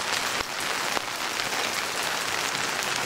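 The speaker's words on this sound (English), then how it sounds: "It's raining again." Heavy rain pours down in Coamo, Puerto Rico, a loud dense hiss of drops that runs unbroken throughout, with a couple of sharper spatters and no voices.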